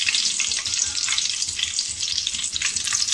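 Whole cinnamon, green cardamom and shahi jeera sauté in hot oil for a prawn biryani, giving a steady, close bright sizzle with faint crackles and the soft scrape of stirring, no voices.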